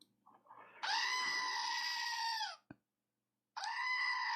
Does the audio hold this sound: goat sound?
yes